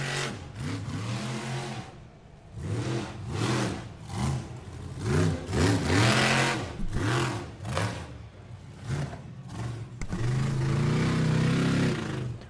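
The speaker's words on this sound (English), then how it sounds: "Ooh, that motor doesn't sound good." Monster truck engine at an Evansville, Indiana arena show, revving in repeated uneven bursts as the motor fails, loud and rough with sputtering surges and dropouts.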